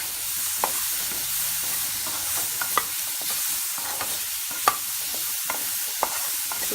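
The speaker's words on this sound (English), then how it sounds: "just saute it for a minute." Peanut salad ingredients with lemon juice sauteing in a pan, a steady close sizzle with irregular scrapes and clicks of stirring throughout.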